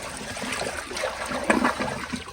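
An elongated ADA Peerless Hancock toilet flushes in a short burst of rushing, gurgling water that swells and then churns near the bowl.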